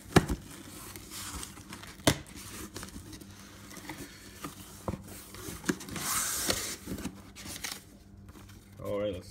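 A knife slices open Nintendo Switch box packaging with sharp scraping, crinkling and tearing bursts of cardboard and plastic, close and intermittent, with a person talking over it.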